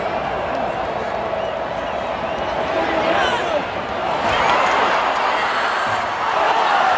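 Roar of a packed college football stadium crowd at a Texas A&M game, a dense, continuous wall of cheering and shouting that swells louder in the second half, heard from within the stands.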